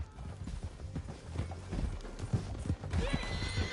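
Horses gallop down a canyon in Red Dead Redemption 2, rapid close clip-clop hoofbeats pounding throughout with a whinny near the end.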